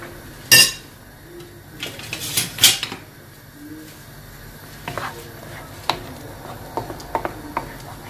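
A utensil scraping and clinking against a pan while eggs cook for chicken briouates, with irregular light taps and scrapes over a faint sizzling background, no talk.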